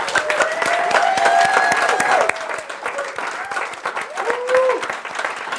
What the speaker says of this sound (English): Can we give Adamus an applause, please?